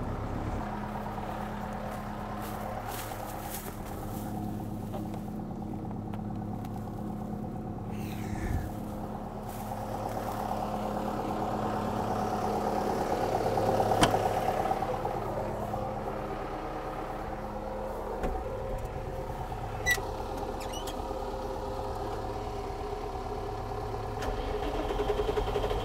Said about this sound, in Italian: Adesso possiamo provare a mettere in moto il landinone.